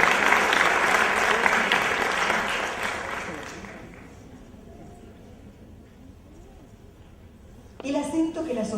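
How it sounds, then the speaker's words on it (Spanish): Applause at a Catholic education conference lecture is loud and dense for about four seconds, then fades into quiet murmur before talk resumes at the end. "Un aplauso."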